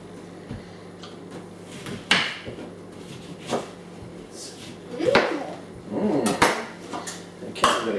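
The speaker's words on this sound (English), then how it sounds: "So once you've zested the lemons, the next step is to squeeze out half a cup" Zested lemons being squeezed for juice in a home kitchen, heard as a series of clattering utensil and dish knocks with squelchy bursts, growing busier toward the end, with occasional voices nearby.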